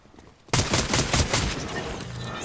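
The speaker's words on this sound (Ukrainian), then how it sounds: "Вот кто в мене стріляв." Dense automatic gunfire bursts in suddenly and keeps going loud and rapid, a sustained Fortnite firefight with overlapping shots.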